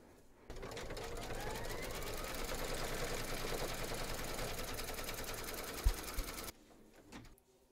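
An embroidery machine satin-stitches in purple thread around a teddy's head on an in-the-hoop bag, with a steady rapid mechanical chatter that runs for about six seconds, close and even, then cuts off with a few faint clicks.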